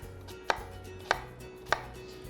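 A knife cutting through an onion lengthways on a chopping board makes three sharp, evenly spaced thuds about half a second apart, close and clear over a low kitchen hum, with no talking.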